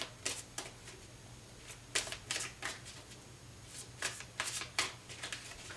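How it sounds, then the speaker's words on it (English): Tarot cards are shuffled in quick, crisp bursts of riffling, close and fairly quiet, with short pauses between flurries and a low steady hum underneath. "Hold on, one more shuffle."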